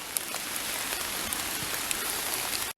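Steady rain falls outdoors during late-October bottle digging in West Virginia, a dense, even hiss of drops pattering on the ground, close and continuous.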